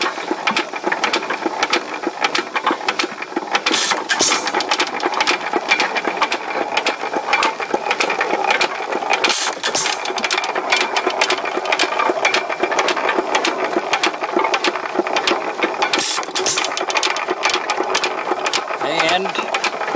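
A hit and miss engine with a spark box runs near a mud pump, producing a continuous mechanical clatter with a rapid ratcheting rhythm and occasional louder bursts, with a voice talking over it.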